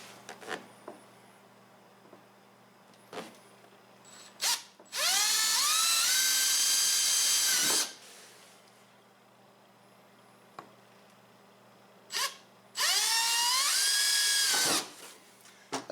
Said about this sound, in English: Then take your drill bit,